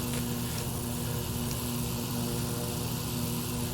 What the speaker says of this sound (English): I'm gonna have to fly this airplane.